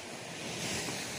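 Ocean waves wash steadily at the edge of a rocky coral island beach on Dana Island, Sabu Raijua, as a continuous soft rush mixed with wind noise, with no voices.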